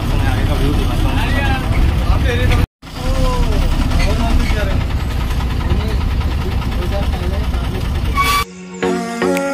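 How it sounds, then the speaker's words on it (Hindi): An ordinary UPSRTC bus engine runs as the bus pulls away, a loud rumbling drone with a rattling body, under constant chatter from people nearby, with a short cut near the start and a horn-like tone toward the end. "भाई बस हमारी खुल गई है"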